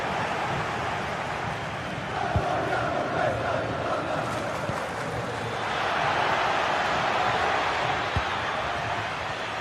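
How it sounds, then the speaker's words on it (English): A football stadium crowd sends up a steady, distant roar of chanting and cheering that swells louder in the second half, with no voices heard over it. "just listen to this crowd"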